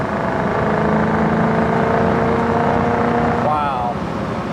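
A 1967 K-code Mustang engine holds at high revs with a sustained, loud droning snarl, easing slightly near the end as a brief tonal sweep appears.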